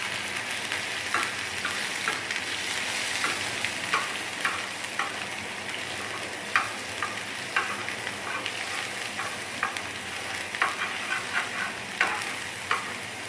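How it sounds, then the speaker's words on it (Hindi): Ginger paste frying in a pan, a constant close sizzle punctuated by regular light ticks and scrapes of a spatula stirring, with no voices. "अदरक पेस्ट इसमें डालते हैं। इसको अच्छी तरह फ्राई करते हैं।"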